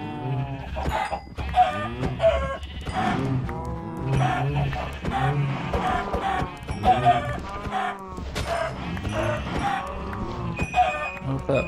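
Minecraft animal sounds, clucking chickens and bleating calls repeating over steady background music and effects, close and fairly loud throughout.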